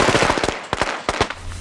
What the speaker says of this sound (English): I just bought some M1000s, which dude says are almost as loud as the old M80s were